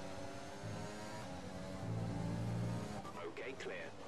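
Race car engine in an F1 sim racing game at Austria, a steady droning hum that swells as the throttle opens, with commentators talking over it throughout.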